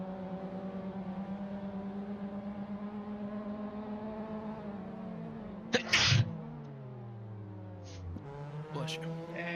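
A single sneeze bursts out near the middle, loud against a steady droning engine hum from a Mazda MX-5 sim race at Donington.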